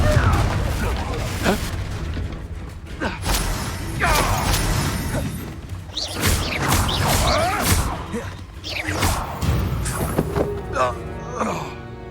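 Fiery Confringo spell blasts in Hogwarts Legacy go off as a string of booming explosive impacts with crashes and whooshes, loud and close, with voices talking through the action.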